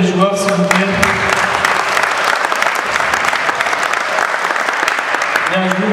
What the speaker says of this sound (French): On peut applaudir les joueurs s'il vous plaît.